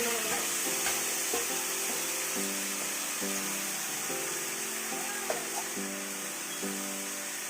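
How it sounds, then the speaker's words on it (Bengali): Chicken sautéing with raw spices in a pan for Bengali chicken curry, a steady bright sizzle heard close up, with rhythmic stirring or scraping and a faint pulsing tone underneath. "কষাবো, ভালো করে কষে নেবো"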